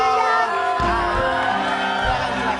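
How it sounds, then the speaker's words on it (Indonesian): A studio audience on an Indonesian TV show whoops and cheers loudly, a dense continuous crowd roar of shouts with a few strong voices rising above it throughout. "Tepuk tangan"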